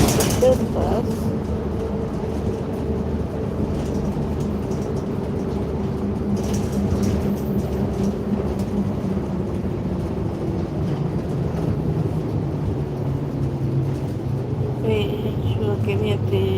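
Inside a moving bus heading toward Harrison, a steady low engine drone and road rumble run throughout, with a person speaking over the vehicle noise.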